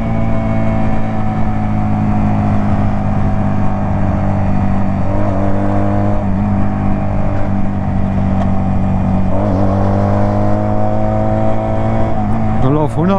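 A 125cc two-cylinder chopper motorcycle engine is held at high revs, a loud, constant droning tone with strong low harmonics that wavers slightly and climbs a little near the end, close to the listener.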